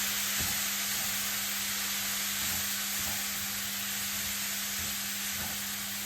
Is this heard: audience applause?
no